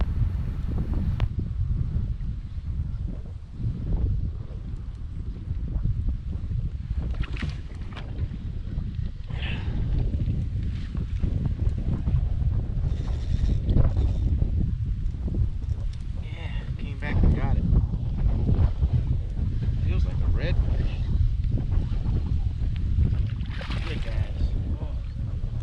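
Steady wind roars and buffets the microphone while kayak fishing for bass in a New Orleans marsh, a dense low rumble that continues for the whole stretch, with faint rustles and knocks now and then.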